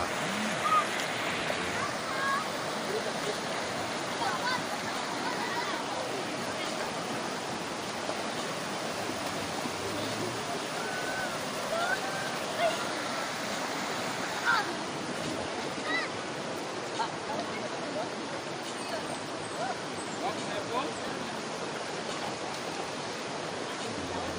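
A dense, steady rush of fast-flowing water on the Tugaya River, broad and continuous, with no breaks throughout.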